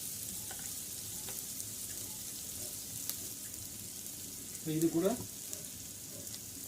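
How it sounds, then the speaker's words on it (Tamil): Chicken cutlet mixture with chopped onion and tomato frying in a pan, giving a soft, steady sizzle throughout, with a brief burst of speech near the end. "இது நல்லா வதங்கி வரட்டும்."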